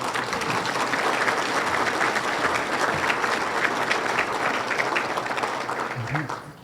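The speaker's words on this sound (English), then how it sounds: "I would like actually a huge round of applause for Diana, her entire team" Sustained audience applause fills a regional state-of-the-region address, a dense, steady wash of many hands clapping at close range that holds for several seconds before tapering slightly at the end.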